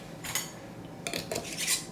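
A glass jar of home-canned meat or bacon is set into a metal canner in a few short clattering knocks and scrapes, spread over two seconds. The sounds are close and fairly quiet, over a low room hiss, with no speech.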